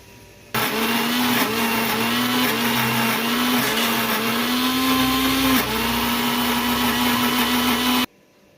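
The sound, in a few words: mixer grinder grinding pirandai (adamant creeper) for chutney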